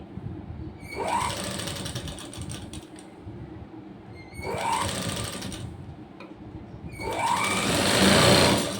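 An electric sewing machine stitches a blouse in three bursts of rapid, whirring stitching, each rising in speed and separated by short pauses.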